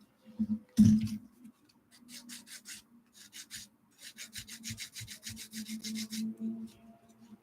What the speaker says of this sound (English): so let's file that down